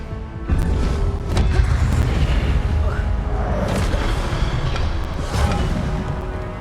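An Incendio fire spell cast in Hogwarts Legacy on Switch 2 bursts with a heavy booming whoosh near the start, followed by rumbling thuds and crackle, while a voice shouts over the effect.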